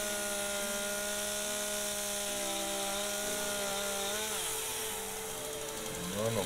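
A tool works a piece of wood loose with a steady, buzzing hum that holds level, then wavers and drops in pitch near the end.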